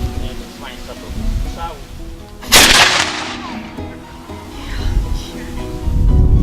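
A single loud historical cannon blast booms and rumbles away at a historical reenactment in Srebrna Góra, Poland, with crowd noise and murmuring voices before and after.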